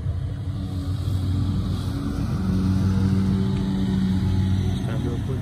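A 1985 Lincoln Town Car Armbruster Stageway limousine conversion with a 302 V8 idles smoothly, a steady low purr close by with faint lawnmowers droning in the background.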